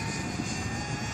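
A Freewing F-104 Starfighter RC jet flies past with a steady, loud whooshing electric ducted-fan whine, constant and close for the whole moment.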